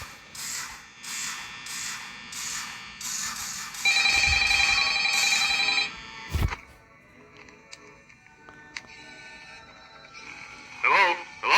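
A telephone rings in the FNAF fan game Remainder, sounding as repeated rings that stop before a quieter stretch of faint game noises, with a voice briefly heard near the end.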